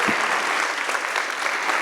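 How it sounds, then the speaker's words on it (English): Audience applause for presenters at the FinOps X 2024 cloud conference, a dense steady clapping from a seated crowd that stays loud and even throughout with no voices over it. "So big round of applause for our presenters."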